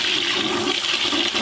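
A toilet flush unit in a washroom, the kind fed into a biodigester with a soakaway, flushing with a loud, steady rush of water that fills the whole moment without any voices.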